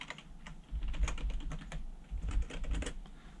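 Password typed on a computer keyboard while setting up an Actina Pentagram P6820 router, a quiet, close run of quick irregular key taps in two short bursts.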